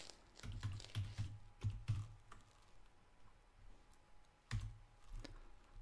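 Computer keyboard typing on an Ubuntu desktop, short bursts of quick clicky keystrokes close by, pausing in the middle before another quick run, no talking.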